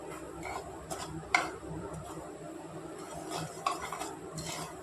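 Mustard seeds roasting in a pan for a homemade red chilli pickle, with scattered light ticks and crackles plus occasional sharper clinks of a utensil against the pan, moderately close and steady.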